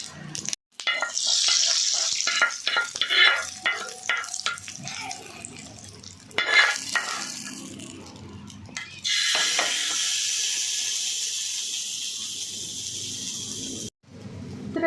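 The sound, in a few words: mustard seed tempering with curry leaves and chillies sizzling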